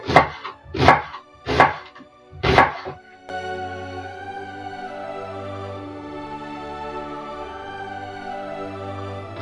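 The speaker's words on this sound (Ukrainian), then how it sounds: "далі нам потрібно нарізати під кільцями цибулю" A knife slices an onion into rings on a board in four sharp, evenly spaced cuts, then a low background hum continues.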